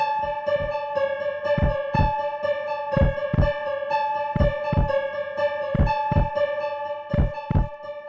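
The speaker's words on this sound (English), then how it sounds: "This music coupled with the heartbeat, it's just like, oh, sound design, big plus points." A heartbeat effect from the video game Final Fantasy VII thumps in regular double beats, loud and close, under sustained tonal music with ringing, bell-like overtones that hold throughout.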